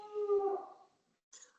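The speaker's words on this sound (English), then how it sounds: "my wife just came home and the dogs are going nuts" Dogs howling at home, one drawn-out tonal howl that fades, then after a short silence a brief higher yelp-like cry, close and moderately loud with no talk over it.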